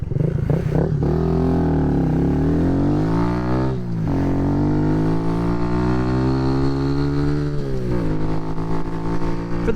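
A Kawasaki starter motorcycle runs flat out on a highway during a top speed test, its engine droning loud and steady with rising harmonic pitch sweeps as it shifts and accelerates, plus heavy wind noise throughout.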